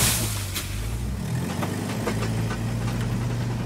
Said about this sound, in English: That's my gearbox.